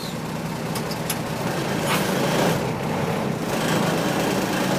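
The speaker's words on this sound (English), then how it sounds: "I got to release my parking and my trailer, and I'm going to put it in drive" A truck with a trailer pulls forward after its parking brakes are released, giving a steady low engine drone that swells slightly as it moves off, heard close and continuous with no talking.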